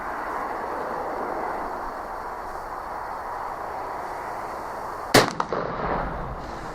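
A single sharp gunshot from a Tingle .44 pistol fired outdoors at a gopher, loud and close, with a brief echo trailing off after steady background wind noise.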